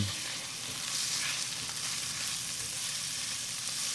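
Shrimp sizzles and fries steadily in a pan with sautéed onion and garlic, a dense continuous crackle at a close, even level with no talking.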